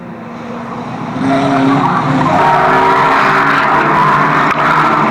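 Race car tyres squeal and skid at a Fleet Raceway meeting, a loud sustained screech that swells after the first second and holds steady to the end, with no talk.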